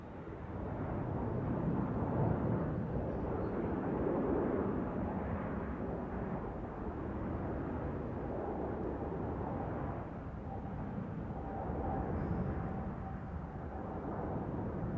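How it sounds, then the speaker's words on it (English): A KLM Boeing Dreamliner at Amsterdam Schiphol on a windy day gives off a dull, distant, rumbling engine roar that holds steady for the whole stretch, faint and wind-blurred. "Alright, the Dreamliner. KLM Dreamliner over here."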